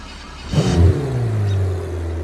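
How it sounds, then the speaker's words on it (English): A supercar engine in the video game BeamNG.drive cranks and fires up with a quick roaring rev, then settles into a steady, rumbling idle. "let's give you here what this car sounds like by starting up right now"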